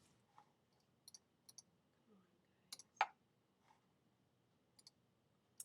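Several sharp mouse clicks spaced irregularly in a quiet room while an area of a drawing is filled with color in a live-paint design program, one click noticeably louder than the rest.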